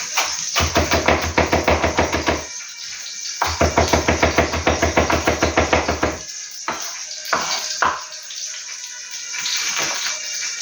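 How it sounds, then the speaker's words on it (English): A knife chops onions finely on a cutting board for a Pakistani chicken curry, with two long runs of rapid, even, close taps and then a few scattered knocks and kitchen clatter. "Chop them pretty fine because then they'll break down easier as they cook."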